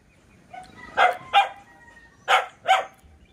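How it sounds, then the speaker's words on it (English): A dog barks four times close by, in two pairs of sharp, mid-pitched barks with a pause between them, over quiet background. "Why are you barking?"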